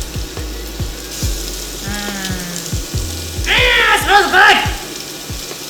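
Seasoned fish cut into one-inch pieces searing in a pan, a steady close sizzle running throughout while people talk over it.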